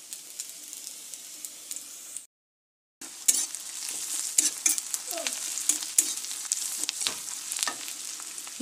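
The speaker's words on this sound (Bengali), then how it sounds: "পেঁয়াজ আর রসুন ভাজা ভাজা হচ্ছে।" Onion and garlic fry in a pan with steady sizzling and occasional stirring scrapes. A short silent break interrupts the sound, which then resumes close and continuous.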